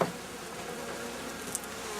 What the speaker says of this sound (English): take this rubber mat that has the bees on them and Shake them